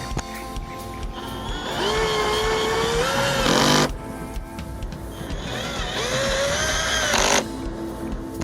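A drill drives screws back into a replacement controller for a Trotter MAGWheel, with two whirring runs of a few seconds each that rise in pitch and stop abruptly, close and steady.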